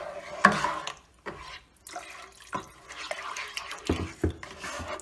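Water splashes and trickles in short bursts, 2 to 3 cups poured into a pot of Tamil thayir kuzhambu (yogurt curry), with brief pauses and a few clinks in between.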